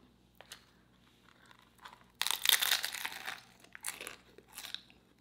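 Someone bites into a crunchy homemade taco shell filled with ground turkey, right at the microphone. It gives one loud brittle crunch and then a few more crackly chewing crunches, with no talking.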